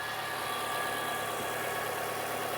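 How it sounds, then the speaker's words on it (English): A Nissan Sentra engine idles steadily with a constant low hum and faint whine, no voices, running evenly throughout. "So as you can hear, the engine is running."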